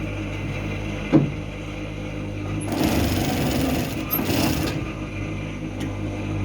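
A sewing machine stitches a pocket onto a coat, with a steady low motor hum throughout and a louder, busier run of stitching in the middle of the clip.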